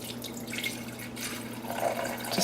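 Small amount of water poured into a blender jar for making a wheatgrass shot, a short splashing trickle that swells toward the end, close and fairly quiet over a low steady hum.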